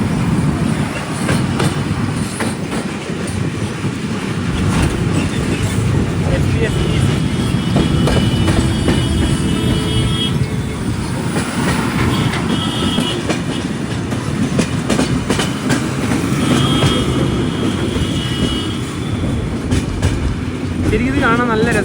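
A Humsafar Express on the Agartala to Bengaluru route runs along the rails, heard from inside the coach as a loud, constant rumble with a rhythmic clickety-clack and brief metallic squeals.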